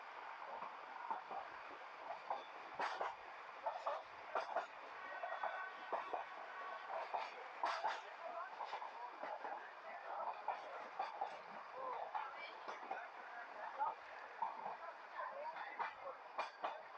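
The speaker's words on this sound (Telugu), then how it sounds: "కొండల మధ్య నుంచి అయితే పోతుంది ట్రైన్ అయితే" The Ooty toy train runs from Coonoor to Ooty through hills and small tunnels, its steady rhythmic rattle and clickety-clack carrying on continuously, with faint voices aboard.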